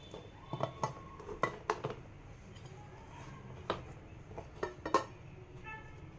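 Dhokla is lifted from its pan onto a plate, with a scattering of light clinks and taps of a utensil against metal and plate, quiet and close, in a soft irregular rhythm.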